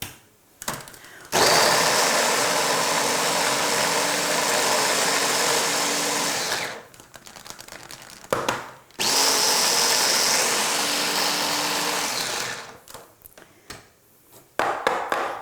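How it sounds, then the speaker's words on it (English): A small kitchen food processor whirs loudly as it chops zucchini and carrot for sausage rolls, running in two long bursts of about five seconds each with a short pause between and brief clatter around them. "into my little whiz-bang food processor"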